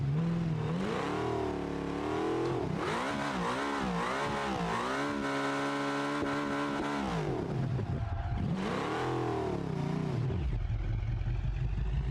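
A car engine in the BeamNG driving game revving hard on a test run, pitch climbing and dropping through repeated gear changes with a rising whine, close and loud, then settling to a low idle.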